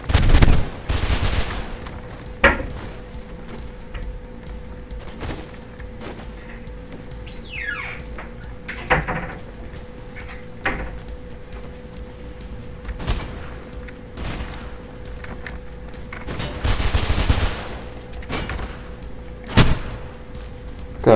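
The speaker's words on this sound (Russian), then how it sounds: "И будем их расстреливать всех." Gunfire in the first-person parkour game Mirror's Edge: bursts of shots scattered through the stretch, several loud cracks and short volleys over a low ambient hum.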